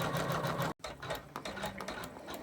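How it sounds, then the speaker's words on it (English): A Janome embroidery machine stitching netted lace coaster semicircles, a steady fast mechanical whir and needle chatter that cuts out for an instant and then resumes, close and continuous. "So it's starting the process of stitching out these lovely netted semicircles."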